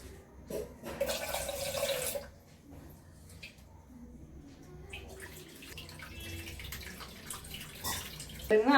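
Ragi grains washed in water to remove soil: splashing and sloshing come in bursts, then quieter trickles and drips, with faint background sounds between.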